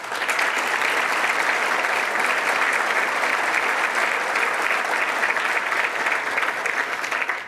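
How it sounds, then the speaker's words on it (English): A banquet audience gives a loud, sustained round of applause, dense clapping filling the room evenly from start to finish. "So if we could give those people a round of applause."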